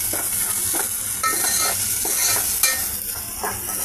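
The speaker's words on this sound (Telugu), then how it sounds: "అన్ని ఈ విధంగా ఫ్రై అవుతున్నాయండి." Taro pieces with salt and turmeric fry in a pan, giving a steady close sizzle broken by repeated scraping stirs of a spoon.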